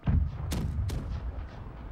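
Ship cannons boom in a fast pirate naval battle in the video game Blackwake, two sharp, sudden blasts landing close together over a low, continuous rumble of battle noise, somewhat faint overall.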